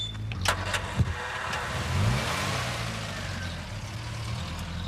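An old car in a street starts up with a few clicks and a brief crank, then the engine catches and settles into a steady rumbling idle at moderate distance, with no talking.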